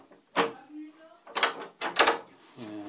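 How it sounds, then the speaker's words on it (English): A handmade wooden door with a latch on a homestead opens or closes in several loud, close bursts of creaking and knocking, with some tonal squeaks between them. "this is the other door that I made. It's got a really cool little latch on it."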